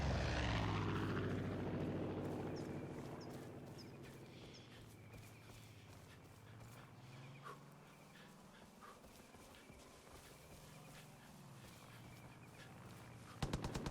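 Propeller airplane in a video game flying overhead, a steady droning engine that swells loudly at first, then fades to a lower sustained hum across the clip.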